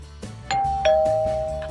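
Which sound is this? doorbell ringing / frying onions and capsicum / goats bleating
doorbell ringing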